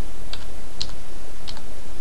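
Computer keyboard in a Linux terminal on CentOS/Fedora, three sparse key clicks over a steady background hiss, close and fairly faint.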